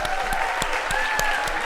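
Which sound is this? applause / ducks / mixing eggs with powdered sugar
applause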